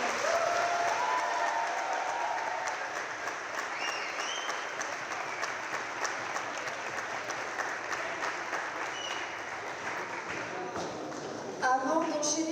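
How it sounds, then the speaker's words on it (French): Sustained applause from a large audience at a French round-table panel, steady dense clapping filling the room for about twelve seconds, with a brief burst of louder claps near the end. "pouvez encore applaudir Amélie Boyer pour cette performance."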